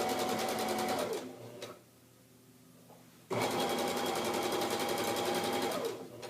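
A sewing machine stitching a welted pillow cover whirs in a fast, steady run, stops briefly with a quieter pause, then starts up again loudly before slowing.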